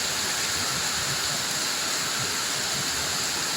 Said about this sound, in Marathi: फुल जोरात पाऊस पडतो